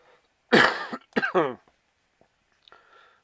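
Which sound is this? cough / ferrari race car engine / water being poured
cough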